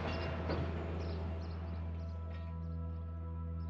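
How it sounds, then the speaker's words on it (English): The Jacobite steam train passes at Glenfinnan, a steady loud rolling rumble of locomotive and carriages throughout, with a brief louder burst near the start and no talk. "As the train passes by"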